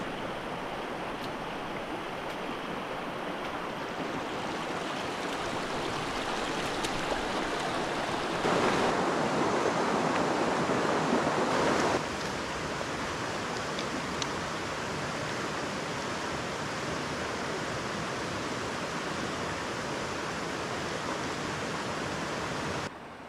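Fast-flowing water in Stony Creek rushes steadily and loudly over rocks in a broad, continuous wash, with a brief louder surge partway through and no voices.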